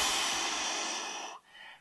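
A person imitates a buck deer's snort wheeze with the mouth, making one long, breathy, hissing exhale that tapers off before a faint final puff.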